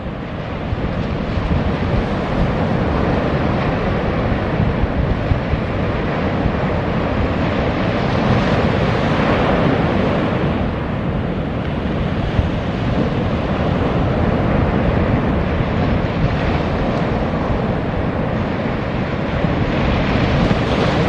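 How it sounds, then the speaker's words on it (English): Ocean waves surge around a small charter boat at sea, a loud, continuous roar of surf and rushing water mixed with heavy wind buffeting the microphone, steady for the whole stretch. "look at those waves"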